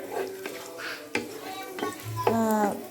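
Cashews and raisins fry in ghee in a pan for Kozhikode biryani, with several sharp clinks of a metal spoon stirring against the pan over a soft sizzle. A person talks over the cooking.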